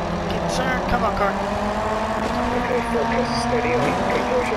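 Rallycross race car engine in the DiRT 4 driving game, a continuous revving drone with shifting pitch under a voice talking throughout.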